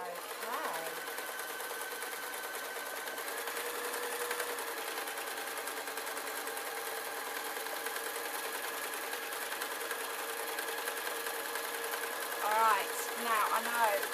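A sewing machine runs steadily, stitching a long extended length of fabric for a crayon roll, with a continuous mechanical whir and a few brief higher squeaks near the end.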